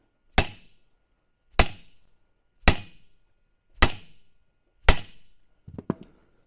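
A hammer strikes an impact screwdriver to loosen the chain guide screws on a bike being restored, landing five sharp, evenly spaced metallic blows, followed by a few faint clinks.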